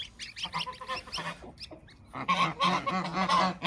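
Geese honk close by in loud, repeated bursts, a mother goose with her goslings in a coop setting, the calls coming in clustered, agitated runs with brief pauses between them.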